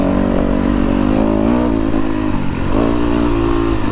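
A 2023 Kove FSE 450 R rally motorcycle riding over big dirt berms, its engine loud and close, revving and surging continuously with shifting pitch.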